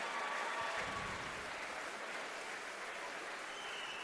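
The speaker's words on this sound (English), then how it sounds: "How about a round of applause for these 2 heavyweights slugging it out in entertaining fashion here tonight" Crowd applause for two heavyweight fighters at a boxing event in Melrose, Massachusetts, a faint, steady wash of clapping from a distance with no talk over it.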